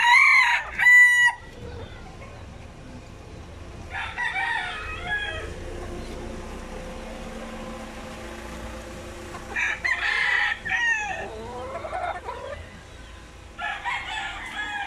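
Chickens call from nearby in short bursts, a rooster-like crow and clucking rising now and then over steady low background hum.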